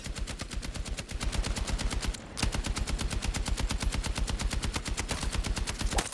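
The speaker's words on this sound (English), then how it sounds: "I'm just shooting through the fence blind." Rapid, sustained automatic gunfire from the Battlefield REDSEC video game blasts close and loud in a steady fast rhythm, with one brief pause before the burst resumes.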